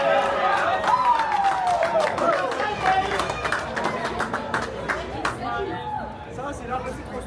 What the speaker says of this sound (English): there is such a crowd of people watching this right now